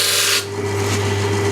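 A disc sander shaping a piece of wood for a monk's bench, a brief, loud, rough grinding at the start that drops away to the steady hum of the running machine.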